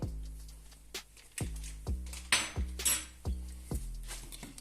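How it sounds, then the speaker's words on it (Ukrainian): Rhythmic scraping and clinking of a utensil stirring pie batter in a bowl, steady strokes repeating about once a second, close and fairly quiet. "розмішуємо до повного розчинення усіх грудочок"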